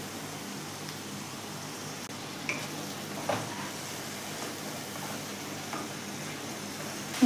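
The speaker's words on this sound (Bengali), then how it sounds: "জল দিয়ে মশলাটাকে ভালো করে কষবো।" Spice paste with a splash of water sizzles and fries steadily in a pan for a Bengali fish kofta curry, with occasional scrapes and clinks of a spatula stirring it, close and continuous with no talking.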